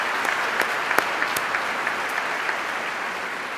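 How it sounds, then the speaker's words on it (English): Sustained applause from a crowd at the 2018 Central Lakes College technical program graduation ceremony, a steady dense wash of clapping with a few sharper individual claps standing out, continuing evenly for several seconds. "Let's give them a round of applause."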